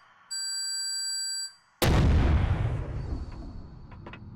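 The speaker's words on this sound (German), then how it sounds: "Ist immer gut, in engen Räumen zu sprengen" A single explosive blast set off in a tight enclosed space in the game Empyrion, a loud sudden boom with a long rumbling decay. A steady electronic tone runs briefly before it.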